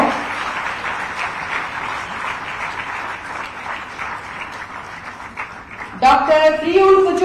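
Steady, loud applause from an audience at a government appointment-letter ceremony in Ranchi, sustained throughout before an announcer's voice comes in over the clapping near the end.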